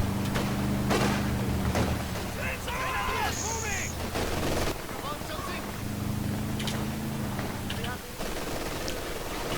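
Gunfire and explosive thumps from a mortar team in a video game, with repeated bursts and booms through a busy battle mix, partly under continuous talk.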